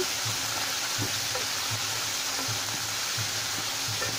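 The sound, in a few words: sautéing spices for fish-head moong dal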